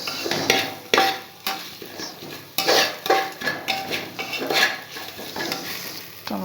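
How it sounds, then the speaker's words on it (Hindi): Spices stirred and fried in a pan, with repeated scraping and clinking strokes of a spoon against the metal over a steady sizzle, loud and close, no talking. "मसाला डाल के इसको थोड़ी देर भूनेंगे।"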